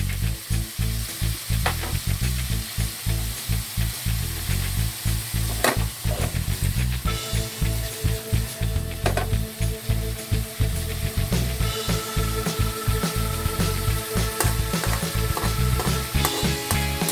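Bitter gourd (ampalaya) sautés in a pan with egg, giving a loud, continuous close-up sizzle and frying crackle that runs unbroken, with no voices over it.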